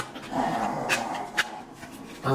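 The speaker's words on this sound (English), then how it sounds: "That's the dog's carrying his toy noise." A dog carrying its toy makes soft whimpering, muffled grunting noises close by, with a few brief sharper yips in a quiet room.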